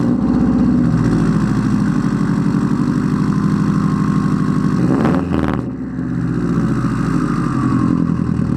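A 2006 Subaru WRX with dual blast-tip exhaust idles with a deep, steady exhaust rumble, loud and close, with a brief dip in the middle before the throaty drone resumes.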